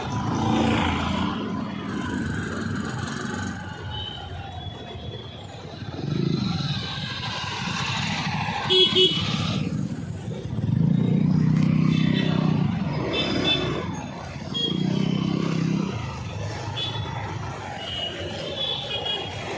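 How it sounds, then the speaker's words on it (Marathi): Roadside traffic passes in waves, cars and motorcycles swelling and fading close by over a constant rumble. No horn stands out clearly. "इकडे आता ट्रॅफिक आहे आजच्या बाजूला"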